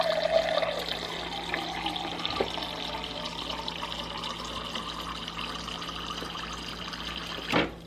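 Water runs steadily into a glass for several seconds, a continuous near splashing stream that ends with a brief louder gush.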